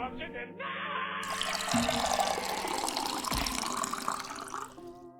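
Water running from a tap, a steady rushing flow that begins abruptly and keeps pouring, with a person speaking over it.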